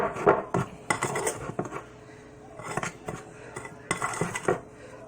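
A utensil stirs pumpkin spice roll filling in a bowl, giving busy, close scraping and clinking against the dish in quick bursts with brief lulls.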